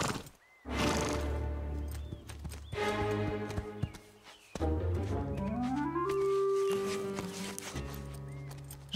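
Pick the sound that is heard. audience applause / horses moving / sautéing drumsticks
horses moving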